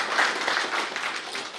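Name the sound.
audience applause at award ceremony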